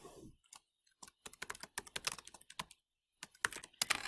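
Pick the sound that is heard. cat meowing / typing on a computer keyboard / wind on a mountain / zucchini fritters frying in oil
typing on a computer keyboard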